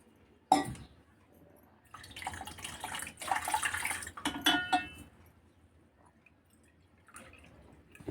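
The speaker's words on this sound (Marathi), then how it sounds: "अजून दोन वाटी पाणी टाकायचं आपल्याला" Water poured from a bowl into churned curd to make buttermilk, splashing close by in a few short bursts of pouring and dripping, with quiet pauses between.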